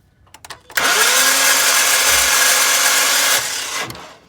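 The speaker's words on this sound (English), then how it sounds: "Go ahead and crank it again." A 2012 Ford Mustang with a 3.7-liter V6 and a timing fault cranks without starting. The starter whirs loudly and close, winding up quickly and holding a steady grinding drone for almost three seconds before it cuts off.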